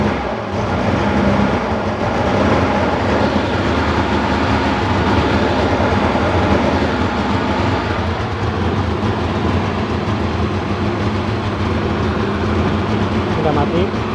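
The engine of a Suzuki Carry runs steadily on a mix of petrol and LPG, giving a loud, close, continuous idling rumble with slight wavering, and someone talks over it.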